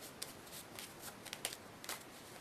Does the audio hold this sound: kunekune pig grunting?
no